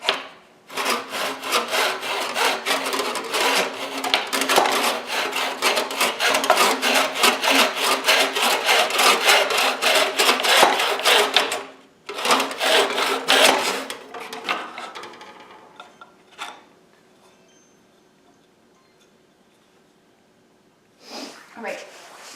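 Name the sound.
old hand saw cutting pallet wood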